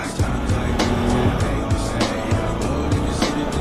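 A Bajaj Pulsar RS200 motorcycle being ridden on a road trip around Ergani, Diyarbakır, its engine droning steadily and fairly loud throughout, with wind and road noise and no talking.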